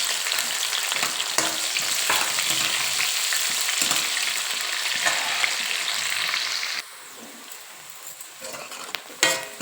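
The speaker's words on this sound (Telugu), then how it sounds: "ఉల్లిపాయ మంచిగా వేగింది కదా" Onions and two dried red chillies fry in a pan after mustard seeds for a brinjal and potato curry, a steady close sizzle with stirring scrapes, dropping to a quieter hiss near the end.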